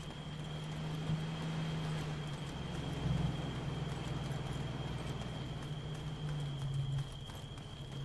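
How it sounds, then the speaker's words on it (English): Quick rhythmic footsteps patter close by in a video game over a constant low engine-like drone and a thin high tone. "Where I heard footsteps next to me."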